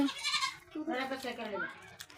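Sheep bleat in a couple of wavering calls close by at a farm, fairly quiet and clear over a low background.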